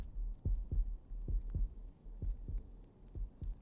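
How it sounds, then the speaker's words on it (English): Heartbeat sound effect from the video game Final Fantasy XVI, a steady series of deep, thudding double pulses, about eight beats in under four seconds, low and prominent with no talking. "the heartbeat sound"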